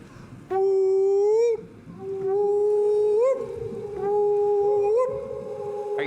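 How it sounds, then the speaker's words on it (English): Whale song in a children's story: three long, tonal, howl-like calls that swoop and bend in pitch, each lasting about a second, clear and prominent over a soft rumbling background, with no talking. "And their whale song carried far, far across the huge ocean."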